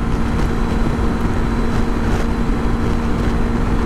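Honda CB500X motorcycle engine held at about 7,000 RPM while touring fully loaded with a passenger, a loud steady drone with a strong constant hum and road and wind rush throughout, no talking.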